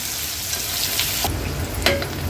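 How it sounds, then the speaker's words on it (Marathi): Finely chopped onion frying in oil over a low flame for a Koli-style ghol fish curry, a close, loud, continuous sizzle with a brief clack near the end. "हा बारीक चिरलेला कांदा आहे तो ॲड करूया आणि तेलावर कांदा लो फ्लेम करून छान शिजवून घ्यायचा आहे"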